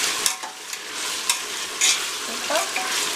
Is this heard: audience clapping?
no